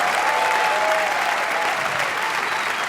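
Steady, loud applause from a standing church congregation, continuous clapping throughout with a faint tone in the background.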